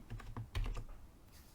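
Keystrokes on a computer keyboard while code is written for an MT4 custom order panel, a brief burst of quick, close taps with a short pause and then a cluster of heavier presses.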